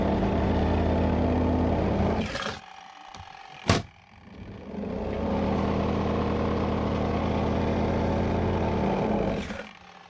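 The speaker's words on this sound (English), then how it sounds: "So let's spin this one first and see how it works." Castway mini portable twin washer dryer spinning: a steady loud motor drone with low hum, cutting out as the lid opens around two seconds, a sharp knock, then spinning back up and running steadily before stopping again near the end.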